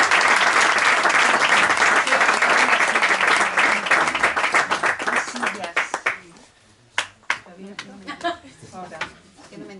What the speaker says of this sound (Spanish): os pido un fuerte aplauso para recibir